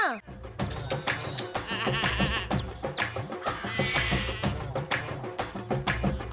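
Sheep bleat repeatedly on a sheep farm, mixed into busy music with a singing voice over the top, loud and continuous throughout.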